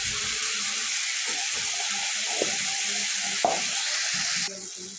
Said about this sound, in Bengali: আবারও ভালো করে নেড়ে মশলাটা কষিয়ে নেব ভালো করে